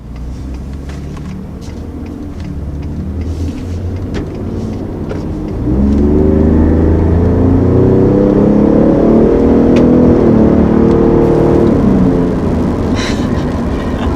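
A 2020 Ford F-150 Raptor's high-output 3.5-liter EcoBoost V6 idles with a deep rumble, then revs up strongly, its growling pitch climbing and holding before easing back down.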